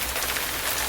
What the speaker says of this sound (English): was a downpour all day